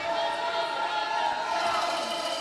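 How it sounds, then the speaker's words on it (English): Basketball arena crowd and team bench roar during a tense defensive stand, a sustained, loud wash of cheering with a commentator's voice running over it. "the USA crowd and USA bench get loud with a key defense here"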